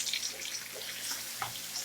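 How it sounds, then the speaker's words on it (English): Ginger, shallot and garlic stir fry in hot oil over high heat for a prawn dish, giving a soft, steady sizzling hiss throughout with faint crackles and no voices. "Go ahead and get my ginger, shallot, and garlic up in there"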